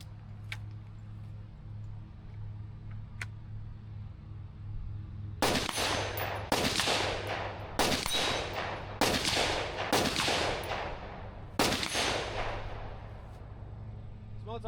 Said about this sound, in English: this first shot that I take is at a 4-inch circle steel target. The rest are a mix between 6 and 8-inch steel targets